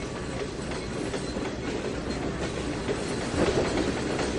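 A train in the Trainz 2019 simulator rolls along the rails with a continuous rumbling drone and rhythmic clickety-clack from the wheels, loud and steady, swelling slightly near the end.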